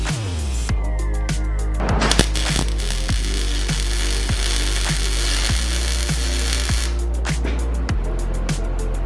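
A loud power tool grinds and cuts steadily throughout, with rapid rhythmic clicking pulses and bursts of harsh high-pitched rasping near the start and end.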